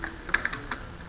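A few soft key presses on a computer keyboard while holding the Ctrl key to select spreadsheet cells, quiet clicks spaced irregularly over a faint background.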